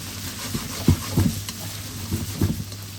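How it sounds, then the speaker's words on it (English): Noodles with prawns and mushrooms are tossed in a very hot wok, soft clattering scrapes and stirring thumps in an uneven rhythm over a faint steady hiss and low background hum. "you need to have the wok at a very high temperature, and we're going to try to cook everything fast"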